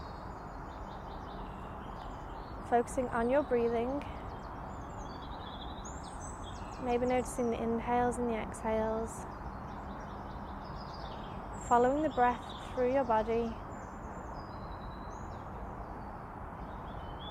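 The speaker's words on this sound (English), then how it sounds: "Maybe you're listening to the birds in the distance." Birds sing in the distance in three short bursts of chirping and trills over a steady background hiss, while a calm voice guides breathing throughout.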